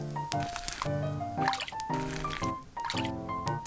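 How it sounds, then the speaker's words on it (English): Miniature chicken pieces dropped into water for a tiny fast-food recipe, giving soft squishy splashes and drips up close, with bright music playing over them. "Put the chicken inside."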